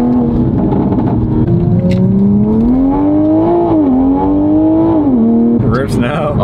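A Toyota Supra with a VRSF downpipe pulls hard from inside the cabin, its turbocharged engine note rising steadily with two brief dips at shifts, loud and unbroken, ending with a faint turbo whoosh.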